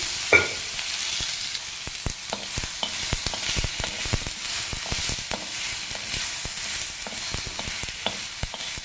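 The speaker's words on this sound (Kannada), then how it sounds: "ಸೊ ನೆಕ್ಸ್ಟು ಟೊಮೊಟೊನ ಹಾಕಿ ಫ್ರೈ ಮಾಡ್ಕೊಳ್ಳಿ" Tomatoes frying in about half a tablespoon of cooking oil: a continuous close crackling sizzle broken by frequent sharp ladle taps and stirring scrapes throughout, with no talk.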